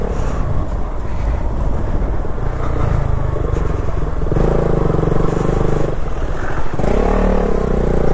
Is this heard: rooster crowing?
no